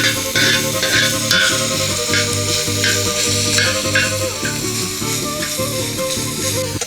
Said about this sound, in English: We're going to throw our bacon.